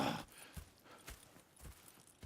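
Horses' hooves clip-clop in Red Dead Redemption 2, a few spaced, soft thuds at a slow walking pace, fairly quiet over a faint background.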